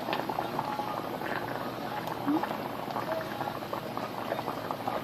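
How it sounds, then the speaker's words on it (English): A pot of liquid boils and bubbles steadily at close range, a dense continuous burbling with no clear pauses, left to simmer on the stove. "we're going to let this simmer down"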